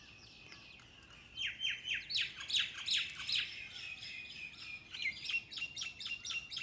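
Small birds chirp in the morning in the mountains of Himachal Pradesh, rapid high trilling bursts, close and lively, starting after a quiet second and continuing in overlapping calls.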